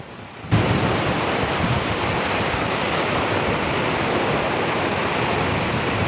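Spray and wind roar at Agaya Gangai waterfall in the Kolli Hills, a dense, loud, steady rush of falling water and gusting air that starts abruptly and continues unbroken.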